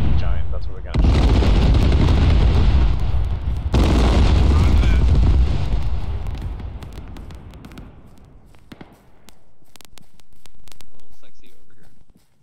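Indirect fire explosions boom on a military range, starting with a heavy, sustained roar that swells again and then slowly fades into distant rumbling and scattered crackle.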